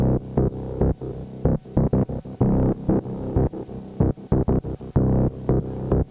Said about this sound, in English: The bass synth has Native Instruments Massive, which is doing a really nice rather funky bass line